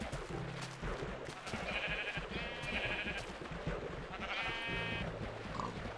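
Sheep bleating on a farm as they are herded along, several drawn-out bleats in a row, one of them after a short gap, over steady outdoor background noise.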